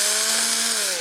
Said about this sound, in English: Just remember you're drilling through plastic